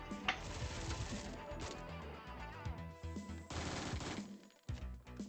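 Rapid auto pistol gunfire in a video game comes in short, close bursts of cracks among other game noise and a musical bed.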